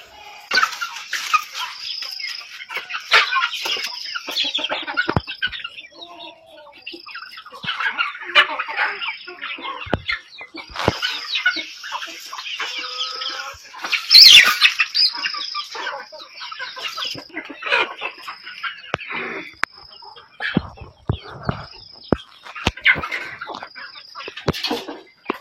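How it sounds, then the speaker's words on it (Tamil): Chickens on a poultry farm cluck and squawk steadily, with overlapping calls from several birds close by and a brief louder burst in the middle. "கோழியை திறந்து விட ஆரம்பிச்சிட்டாங்க பாருங்க."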